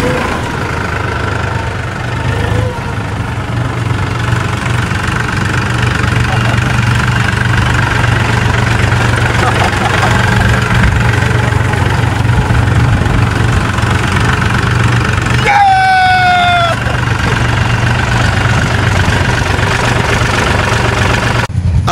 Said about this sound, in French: Tout le monde peut conduire facilement ce tracteur là.